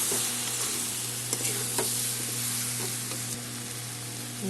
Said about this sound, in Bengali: আলু আমার কষানো হয়ে গেছে, এখন আমি জল দিয়ে দেবো।